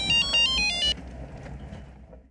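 A bright electronic phone ringtone chirps in short repeated bursts, then stops abruptly, leaving faint room noise.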